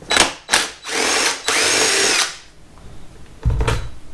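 A power drill backs out factory bolts from the side panel of a 2022 Kawasaki KLX300 during a rear rack install, with several loud whirring bursts of varying length, then a pause before one more short burst close by.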